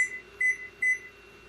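A kitchen timer gives two short electronic beeps in quick succession, clear and close, as it is set for forty minutes while cooking a vegan Persian soup.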